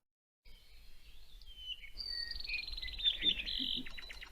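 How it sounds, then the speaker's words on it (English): ʻApapane honeycreeper song with varied whistles, buzzy trills and rising notes, steady and fairly clear, over faint background noise. "one thing you might have noticed is ʻApapane sound very special."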